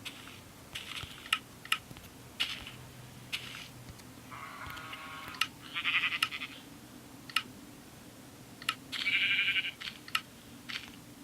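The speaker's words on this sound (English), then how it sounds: "I bet you we have enough sheep to kill" Sheep in Minecraft Pocket Edition give two short bleats, moderately loud, amid faint scattered tapping and clicks in an otherwise quiet game scene.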